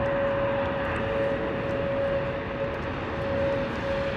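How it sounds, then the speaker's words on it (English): A Boeing 777-200 on approach to land at London Heathrow in wet, windy weather gives a steady broad jet engine roar with a sustained whine, evenly loud throughout. "Boeing 777-200 coming in from Washington"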